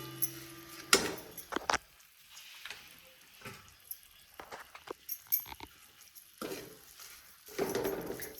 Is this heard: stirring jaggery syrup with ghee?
yes